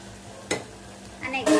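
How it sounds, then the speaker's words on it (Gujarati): Sizzling bursts as cumin and spices hit hot oil for a cluster bean curry tempering, with short stirring noises in between, close by and fairly loud. "મજાના શાકનો વઘાર થઈ ગયો છે"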